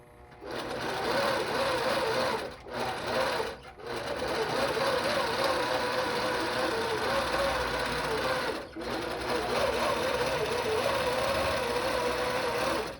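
A computerized quilting machine running an automated Quiltpath stitch-out, its motor whirring steadily and continuously with a couple of brief pauses, close and fairly loud.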